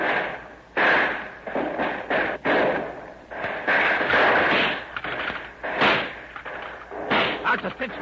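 Rifle shots in an old-time 1938 police radio drama, a loud, dense volley of cracking gunfire bursts crowded together, with voices shouting among the blasts.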